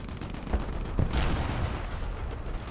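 Gunfire in War Thunder with a self-propelled anti-aircraft gun, a few heavy booming shots at the start under a dense rumbling battle din, loud and close.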